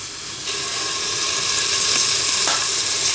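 Olive oil poured over grated garlic in a pot for a berkoukes meat sauce, a sizzle that jumps up as the oil hits and builds into a loud, steady hiss with faint spattering, no talk.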